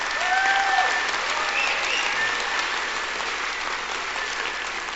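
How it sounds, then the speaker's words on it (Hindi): Loud, dense clapping from a seminar audience, sustained evenly throughout with crowd murmur mixed in. "आप और मैं तालियां जोर से बजा लीजिए"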